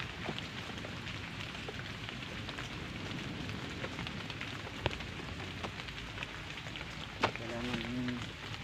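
Heavy rain falling outdoors at a makeshift hunting hideout, a dense steady hiss of drops with scattered sharper taps, faint and continuous, with a brief voice near the end.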